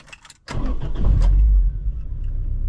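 A Honda Civic with a B18 engine and a Yonaka cat-back exhaust cranks briefly and fires up, settling into a deep, steady idle close by, loud and alone.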